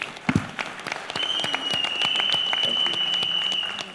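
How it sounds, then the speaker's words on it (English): Audience applause at a CSK launch event, a steady patter of clapping held at moderate level for a few seconds, with a sustained high tone running under it and a brief voice at the start. "Let's give him another big round of applause"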